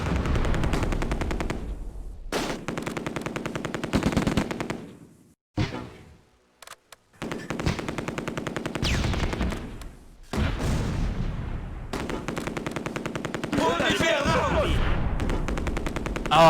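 Video game machine-gun fire from Close Combat: A Bridge Too Far, with long rapid bursts of loud, close automatic shots broken by brief pauses, joined by a few heavier booms, no speech over it.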